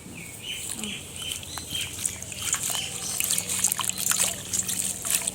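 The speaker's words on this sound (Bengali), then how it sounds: "পরিষ্কার জলে ধুয়ে নেব" Leaves washed by hand in clean water, with a continuous close trickle and light sloshing that grows slightly louder, while birds chirp faintly in the background.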